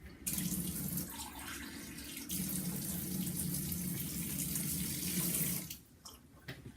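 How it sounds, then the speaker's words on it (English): Water runs steadily from a tap into a sink or glass, a continuous hissing splash close by for about five seconds before it shuts off, followed by a few faint clinks; no talk. "try a bit of water actually."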